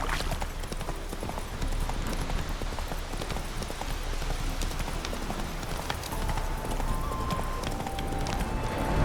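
Horse hooves clip-clopping at a steady walking pace in The Witcher 3, continuous and moderately close amid game ambience.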